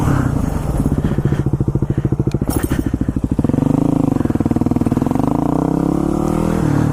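A motorcycle engine roars loud and close, pulsing rapidly, then shifts to a smoother, lower drone as the rider brakes hard on the front wheel in a rolling stoppie in a parking lot.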